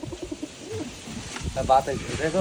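Giribaz pigeons coo softly in low, throaty bursts amid rustling and a person speaking nearby.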